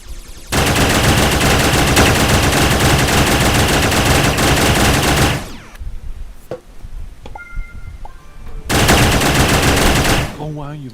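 Sustained automatic gunfire in the modded video game Starbound, a loud dense rattling burst lasting about five seconds, then a quieter gap with scattered game sounds, then another loud burst.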